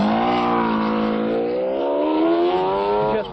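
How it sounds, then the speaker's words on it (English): A 1995 McLaren F1 GTR race car engine warming up, giving a loud, close, sustained mechanical howl whose pitch climbs steadily and then drops off sharply at the end, with no voices. "Just warming the car up now, getting heat into the tyres, brakes, also into the gearbox, into the transmission."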